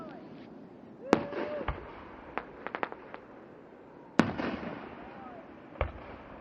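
Fireworks bursting over the Lime Rock race track, with two sharp loud booms and several smaller crackling pops spread across a noisy outdoor crowd background, some faint whistling rises between bursts and a voice heard faintly.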